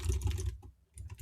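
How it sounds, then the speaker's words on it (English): Brisk keyboard typing sound effect, a rapid patter of keystrokes that pauses briefly and then resumes, close and moderately quiet with no talk. "I'm not actually typing. It's just a sound effect I'm using."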